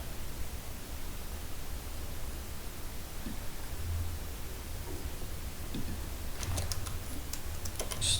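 Typing on a computer keyboard gives soft, scattered clicks under a steady hiss, growing denser near the end.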